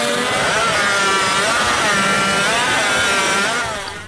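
Rapid, continuous sawing of wood during a women's sawing contest, a steady loud rasp running throughout and tapering slightly at the end, with no speech.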